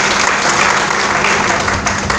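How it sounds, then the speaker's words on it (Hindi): Loud, dense applause from an audience at an organisational workshop, a steady wash of clapping hands close by with no pauses throughout. "एक बार उनके लिए जोरदार तालियां बजा दीजिए"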